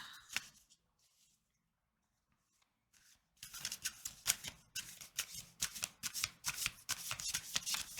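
Tarot cards are handled: a brief riffle, a near-silent pause, then a stretch of quick, close, crisp shuffling and card flicks.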